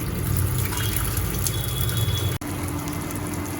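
Prawns and pomfret are rinsed under running water, giving a steady close splashing and trickling with a brief break partway through.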